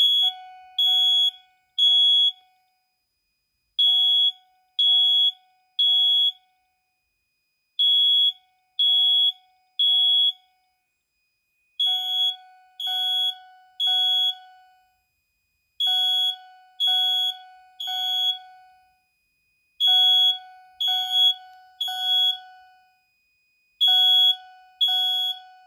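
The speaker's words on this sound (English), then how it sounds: "And the alarm is soft." Fire alarm system under test, sounding repeated groups of sharp electronic beeps in a steady rhythmic pattern with short gaps between bursts, clear and fairly loud indoors, no talking.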